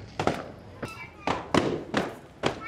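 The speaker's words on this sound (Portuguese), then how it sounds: "Começaram a estourar fogos aqui no meio, na praça" Fireworks burst in a town square in Curaçao, about seven sharp booming pops in uneven succession, moderately distant and echoing through the open space.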